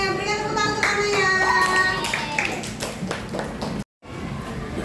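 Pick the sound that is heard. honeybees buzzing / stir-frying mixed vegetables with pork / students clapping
students clapping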